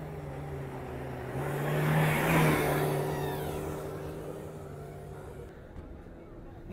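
Rally jeep at the Cholistan Jeep Rally in the desert, its engine swelling in a steady drone as it approaches, peaking up close, then easing off, with crowd noise in the background.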